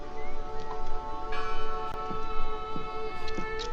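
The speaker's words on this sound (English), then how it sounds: "Bell is ringing on their own." A church bell in the video game Draugen tolls with a sustained ringing tone and layered overtones, loud and steady, repeated strikes blending into one another.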